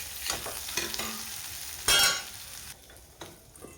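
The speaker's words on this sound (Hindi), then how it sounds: "हमारा कटहल भी लगभग भून चुका है" Chopped jackfruit fries in a pan of mustard oil with a continuous sizzle, broken by scraping stir strokes and one loud burst of spattering near the middle, all close by and with no voices.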